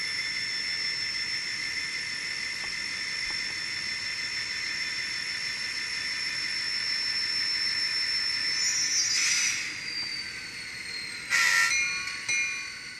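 A ScaleTrains N scale EMD SD40-2 model locomotive in Conrail paint runs with its sound system on. It gives a steady, loud engine drone, and two short horn blasts sound near the end.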